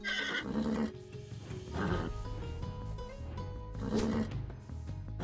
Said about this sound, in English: They do have some horses.